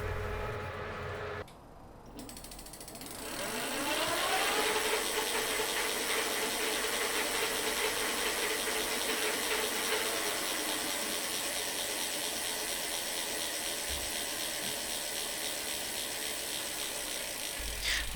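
A DIY e-bike hub motor wheel spins on test, switchable between half and full speed. A whirring mechanical drone with rising whine and fine ratchet-like ticking starts after a brief pause and holds steady to the end, with no talk.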